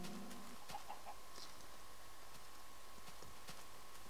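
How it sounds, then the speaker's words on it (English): Minecraft chickens give a few quick, faint clucks early on, then only a low ambient hiss and scattered soft taps remain. "Oh, it's chickens."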